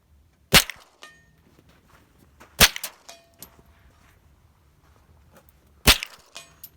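Gunshots ring out during outdoor target shooting in the desert, three sharp loud cracks spaced a few seconds apart, each with a short echoing tail over a quiet breezy background.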